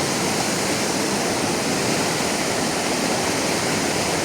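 A slow river flowing past its bank near Bhalam, Pokhara, a dense, steady rushing wash of water that stays constant and fairly loud throughout.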